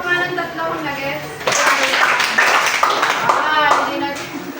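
Schoolchildren in a classroom clap in unison, a sharp burst of several claps in the middle, with a teacher's voice speaking before and after.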